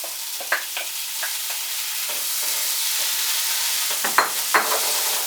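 Beans sizzle in a hot pan with fragrant garlic, a steady broadband frying hiss broken by a few sharp scrapes and clatters as the pan is stirred, loudest near the end.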